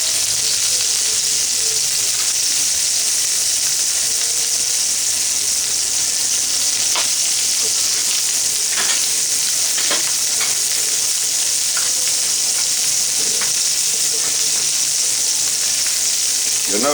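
Tuna steaks (IQF grade) searing in a hot pan give a steady, loud broadband sizzle that carries through the whole stretch with no talking, broken by scattered sharp pops and spits.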